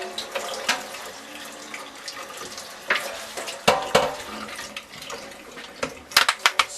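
Water runs from a tap onto a squeeze mop head, an irregular splashing and spattering with a few sharper knocks and drips, close and fairly loud, with no talking.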